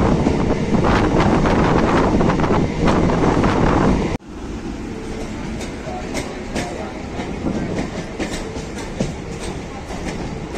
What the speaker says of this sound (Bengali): বন্ধুরা, আমাদের ট্রেন ছেড়ে দিল নৈহাটি জংশন থেকে